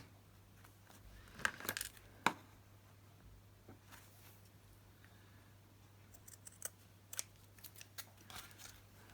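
Scissors snip through lace during a craft project, giving a few sharp, close cuts in a cluster and then quieter scattered snips and light handling noises over a faint steady hum.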